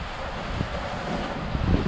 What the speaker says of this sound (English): the wind is gusting 22, averaging 18, 19